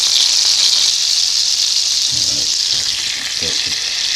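Chicken cutlets fry in a pan with a loud, steady, close hiss of hot oil, broad and unbroken, with a few faint low knocks underneath.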